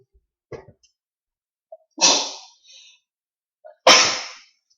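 Two sharp, loud sneezes, each preceded by a quick intake of breath, about two seconds apart; a brief bit of faint vocal noise comes before them.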